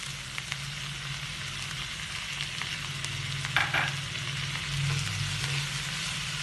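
Olives and button mushrooms stirred into a sizzling quiche filling in a frying pan, with a steady close crackle and occasional scraping of the spoon against the pan.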